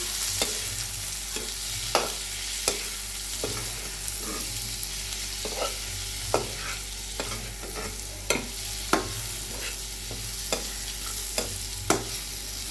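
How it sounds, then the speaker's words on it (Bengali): Cumin and coriander powder sautéed in a pan, with a steady sizzle and a spatula tapping and scraping at a regular rhythm, close and alone over a constant background hum. "আর দিয়ে দিলাম এগুলো এখন একটু কষি"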